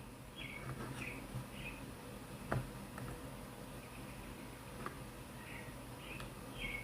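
Small birds chirp and tweet in brief, scattered calls outdoors, fairly faint over a steady background hiss, with a couple of soft knocks in between.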